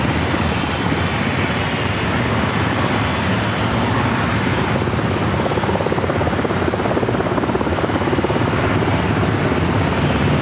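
Helicopter hovering over San Diego Bay, a loud, continuous rotor-and-turbine roar that holds steady without pause, close and dominant with no talking.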